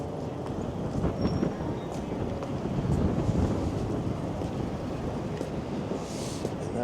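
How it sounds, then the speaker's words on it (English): Cold, double-digit wind chill gusts along a Toronto street, a steady loud rumbling roar of wind buffeting the microphone throughout, with faint traffic-like noise beneath. "That double-digit wind chill is kicking up real good right now."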